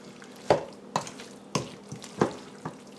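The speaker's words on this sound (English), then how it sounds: "let's just toss this to coat the pasta well" Shrimp pasta salad with onions, cilantro and olives being tossed to coat in a bowl, a handful of wet slaps and soft clacks arriving irregularly, close and fairly loud against quiet.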